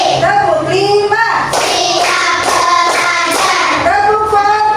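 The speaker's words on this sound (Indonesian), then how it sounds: "Tepuk 1, tepuk 2, tepuk 3, tepuk 4" Children in an Islamic religious class clap along in a counting clap game, their voices chanting over rhythmic hand claps in a loud, busy classroom.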